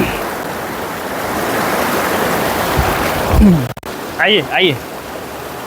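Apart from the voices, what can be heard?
fast-flowing river water around rocks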